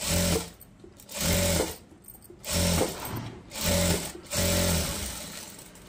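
A sewing machine runs in several short bursts while stitching a boat neck blouse, each run a steady rapid mechanical whir separated by brief pauses, close and alone with no talk.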